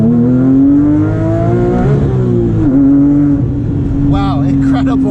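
A Porsche 997.2 GT3 RS with a manual gearbox revs hard, its engine note climbing and dipping in a sustained, loud, close howl that keeps going for several seconds.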